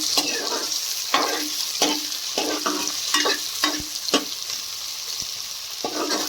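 Onions and spices fry in a pan for a Punjabi-style methi matar malai, a steady sizzle broken by repeated stirring scrapes of a spoon at an uneven rhythm, close up with no voices.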